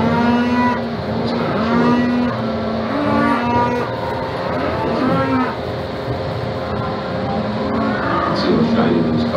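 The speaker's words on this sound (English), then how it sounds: "It's showing how anxious the cows get." Anxious cattle on pasture, wanting to be moved, moo repeatedly and insistently, several drawn-out bellows overlapping from a herd nearby, with a steady background rumble.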